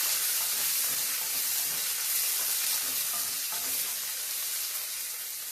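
Chopped onions fry in hot oil in a pan for a carrot and coconut curry, giving a steady, loud, close sizzle and hiss with no voices over it.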